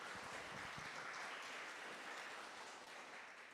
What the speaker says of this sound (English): let's give Al a round of applause for bringing us all here together